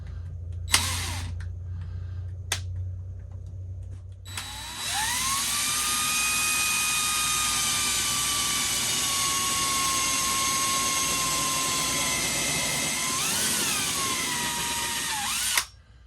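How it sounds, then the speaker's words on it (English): A high-pitched drill pre-drilling into wood whines steadily for a long stretch, pitch holding level, after a couple of short bursts, then spins down and stops. "I don't want to split any wood, so I'm going to do some pre-drilling."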